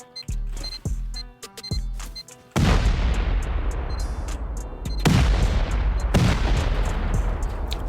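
C4 charges go off against a workbench in the video game Rust, with a few sharp beeps and clicks followed by several loud, booming blasts that ring out and decay, close and forceful.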